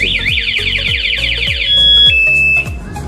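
A motorcycle security alarm installed on a Yamaha Y15ZR blares nearby and loud, first as a rapid warbling siren sweep, then as steady piercing electronic tones over a low rhythmic pulsing, with no talking.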